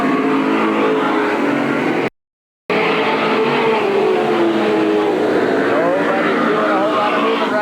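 Race cars at Eugene Speedway in 1987 drone loudly along the backstretch, their engines rising and falling in pitch with a brief gap of silence, under a live announcer's commentary.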